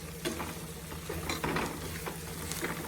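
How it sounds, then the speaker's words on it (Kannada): Homemade spices frying in a pan, giving a soft continuous sizzle with light stirring scrapes, quiet and steady throughout, no voices. "ಇದು ಜಾಸ್ತಿ ಹೊತ್ತು ಫ್ರೈ ಮಾಡ್ಕೋಬಾರ್ದು"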